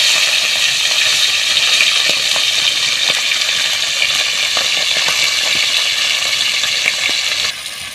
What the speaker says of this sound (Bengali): এবার মাছগুলো ভেজে নেব। হালকা করে ভেজে নেব